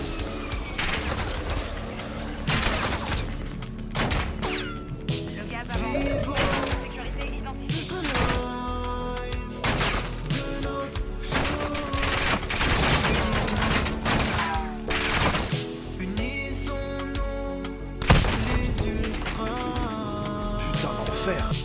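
Rapid bursts of incendiary-round gunfire in a shooter game, sharp repeated cracks and volleys packed across a long busy stretch, mixed with game music, effects and occasional voices.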